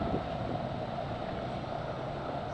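Strong wind on a hot afternoon in Siloé, Cali, Colombia, a steady broadband rushing and buffeting against the microphone, fairly faint and unbroken for a couple of seconds.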